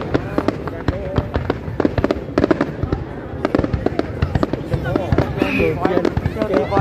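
New Year's Eve fireworks at a public square by Ho Tay in Dak Mil, a dense barrage of sharp cracks and booms in rapid irregular succession, loud and close, with crowd voices underneath.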